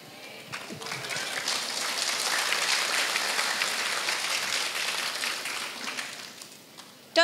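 An audience gathered for a charity gift handout to families living in a cemetery claps together, a dense, steady round of applause lasting several seconds before fading out, with faint voices underneath.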